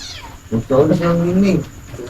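A cat gives a single drawn-out meow close by, brief and fairly loud, with faint background noise around it.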